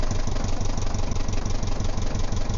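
A 1974 Norlin 34 sailboat's inboard engine runs at a steady idle, loud and close, with a regular low thumping beat and no voices.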